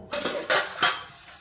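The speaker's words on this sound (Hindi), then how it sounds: "ये देखिए हमारे किचन में ढेर सारा बर्तन सिंक में पड़ा हुआ था।" Dishes and cutlery clatter in a home kitchen sink piled with unwashed utensils, with two sharp, close metallic clanks standing out over a softer ongoing rattle.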